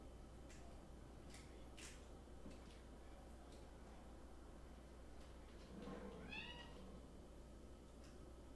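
A cat meows several times indoors, a clear rising call near the end after a few shorter mews, over a low steady background hum.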